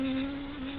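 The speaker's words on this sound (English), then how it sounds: "Mosquitoes." Mosquitoes buzz in a horror cartoon short: a loud, steady, high-pitched whine that drones close by with no pause.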